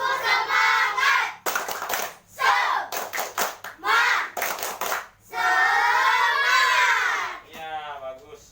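Schoolchildren in a classroom doing a rhythmic patterned spirit clap, sharp clustered bursts of claps alternating with a teacher's voice and children's chanted shouts, close and lively.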